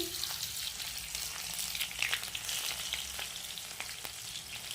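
Steady oil sizzle of chopped onions frying in a pan with cumin, a dense crackling hiss with occasional sharper pops, continuous and close.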